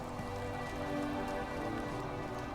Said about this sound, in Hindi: बारिश आ गई शायद